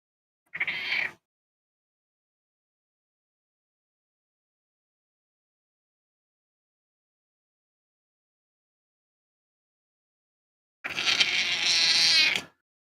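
A black cat lets out a short meow, then after a long silence gives a longer, drawn-out, wailing meow, both fairly close and alone.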